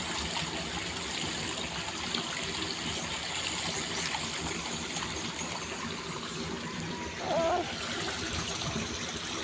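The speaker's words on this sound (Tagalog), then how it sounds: "Lakas ng agos." A strong river current flows in a steady, moderately faint rush of water, with a brief louder splash or gurgle near the end.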